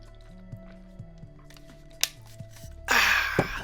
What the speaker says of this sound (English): Water break. Drink your water if you haven't.